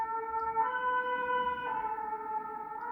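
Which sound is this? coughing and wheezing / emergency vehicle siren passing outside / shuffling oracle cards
emergency vehicle siren passing outside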